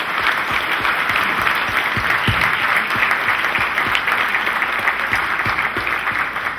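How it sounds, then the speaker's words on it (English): An audience applauds a keynote speaker at an evening event, a steady, dense wash of clapping from a sizable crowd that holds at full strength throughout. "Let's give him a big round of applause."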